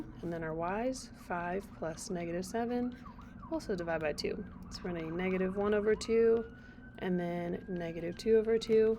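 Emergency vehicle sirens wail faintly outside, a thin rising and falling tone running beneath a person's continuous close talking.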